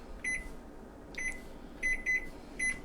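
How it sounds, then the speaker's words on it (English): A cooking timer on a microwave sounds while chicken noodle soup is being made, five short electronic beeps in an uneven pattern, two of them close together near the end, moderately loud over a low background hum. "there's your buzzer going off"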